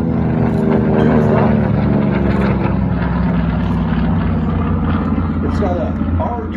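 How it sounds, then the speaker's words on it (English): A TBM Avenger torpedo bomber with a 14-cylinder, 1900 horsepower Curtiss-Wright R2600 radial engine drones steadily and loudly throughout, a continuous low rumble that holds level without pause. "This is the TBM Avenger."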